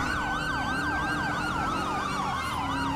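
A police car siren from GTA 5 FiveM wails continuously in a steady rising-and-falling cycle, loud and close throughout with engine rumble underneath and no talking.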